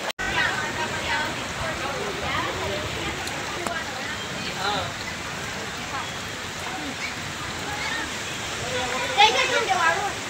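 Steady, dense roar of heavy overnight rain over flooded riverside villages around Satgaon near Pachora, a continuous wash of noise close by with voices faintly beneath it.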